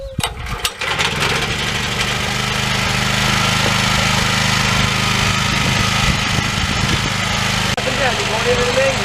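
An engine-powered auger bores fence post holes in stump-filled ground, its small motor droning loud and steady close by for the whole stretch, briefly bogging near the start.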